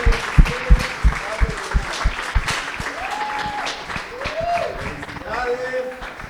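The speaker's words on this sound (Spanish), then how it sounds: "Así que un fuerte aplauso." Applause fills a graduation ceremony for a Christian education diploma, with sharp, uneven clapping bursts up front that settle into steady crowd applause, with voices and cheering mixed in.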